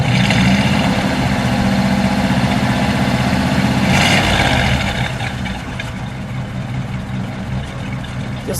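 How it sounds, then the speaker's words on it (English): Steady idle of a 1951 Ford Custom Convertible V8, a continuous close low rumble that dips slightly in level partway through and carries on evenly. "Just let it idle, Jerry."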